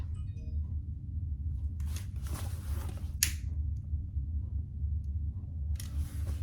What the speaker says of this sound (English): And I'm just gonna burn my zipper ends.